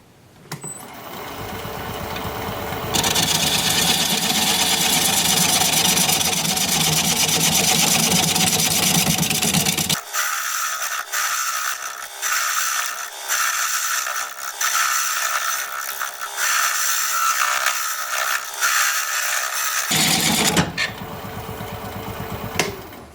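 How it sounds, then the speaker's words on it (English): A wood lathe spins a Gravenstein apple bowl blank at 500 RPM while a 5/8 inch bowl gouge cuts it. A loud, steady whir carries a scraping hiss, and the tone shifts sharply twice as the cut changes. "We're going to be turning at 500 RPM, 5/8 inch bowl gouge for a while"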